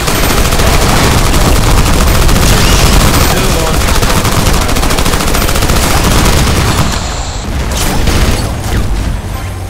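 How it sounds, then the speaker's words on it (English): Loud, sustained automatic gunfire in a Battlefield Heroes match: dense overlapping bursts and booms run continuously, easing slightly near the end, with faint voices underneath. "Cover fire"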